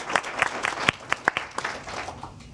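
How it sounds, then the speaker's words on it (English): Audience applause for panelists after a bilingual conference session on data in the digital age, a modest scattering of sharp individual claps over a soft steady patter, fairly quiet and distant. "J'aimerais peut-être une main d'applaudissement pour nos panélistes."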